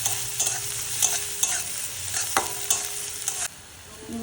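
Fish frying in a pan with salt and turmeric, a constant sizzle broken by repeated sharp spatula scrapes and knocks at an irregular pace, close and fairly loud, with no voices.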